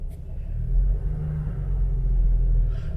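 A Jeep TJ with a freshly rebuilt NSG370 transmission pulls forward under power, giving a loud, steady low engine rumble that swells slightly as it gets moving, with no talk.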